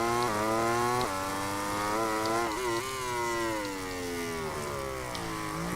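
A MotoGP 18 racing bike at Losail revs hard and loud, its engine note climbing and dropping through several gear shifts as it pushes out of a corner, alone with no talk.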